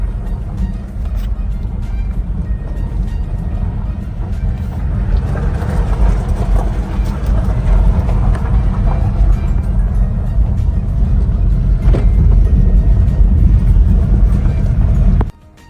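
A 2-liter BMW 320i GT driving, with a steady low engine and road rumble heard from inside the cabin, continuous and even throughout before cutting off abruptly at the end.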